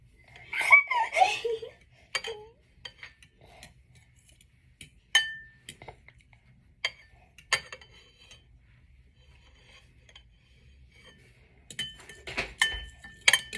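A 19-month-old toddler scrambling an egg in a bowl, sparse light clinks of utensil on dish scattered through a quiet room, with giggles and laughter near the start and a cluster of quick clinks at the end.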